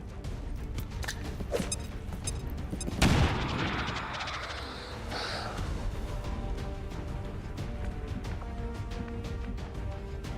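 A single frag grenade blast in XCOM 2 (War of the Chosen, Long War mod) goes off as a sharp burst followed by a short rumble, set against a steady bed of game music and effects.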